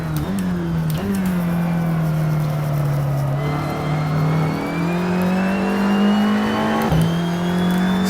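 Race car in a racing video game accelerating downhill at Brands Hatch, its engine note steadily climbing with brief dips at gear changes, loud and continuous throughout with no voices.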